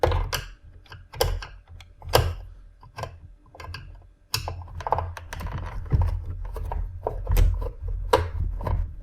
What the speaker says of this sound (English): take the Phillips screwdriver and carefully unscrew this top screw here